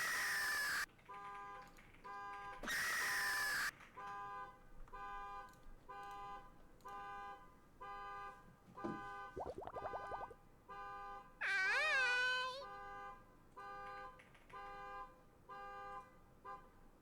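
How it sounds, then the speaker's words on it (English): Car alarm in a Silksong game, repeating electronic beeping tones in a steady pattern with a few louder warbling bursts, fairly quiet and heard alone. "There's a car alarm."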